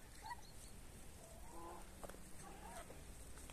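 Roosters and turkeys roam outdoors in a wet vegetable garden after heavy rain, giving soft, scattered clucks and short calls at a distance over a faint, steady outdoor hiss.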